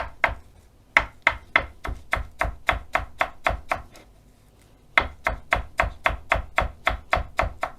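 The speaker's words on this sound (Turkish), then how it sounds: "arada elimin arasında kıstırdıktan sonra ince ince doğrayacağım" A knife finely chops fresh mint leaves on a cutting board, quick even strokes in two runs separated by a short pause, crisp and close with no talking.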